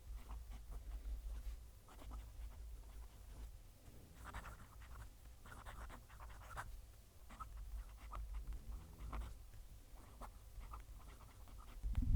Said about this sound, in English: You can hear the nib writing, but you can't really feel it.